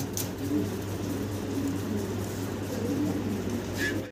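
Female Mundian fancy pigeons coo in soft, low, repeated murmurs throughout, under a steady background hum, with a brief brighter noise near the end.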